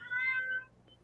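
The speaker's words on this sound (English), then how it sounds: "my cat is in heat at the moment, so it's a little distracting" A female cat in heat lets out one loud, drawn-out meow, close by and rising then falling in pitch. Afterward only a quiet room remains.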